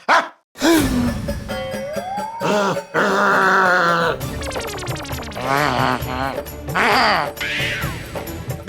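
A dog at a doorway barks and growls at a stranger in loud, agitated bursts, mixed with yelps and other voices in a noisy indoor scene.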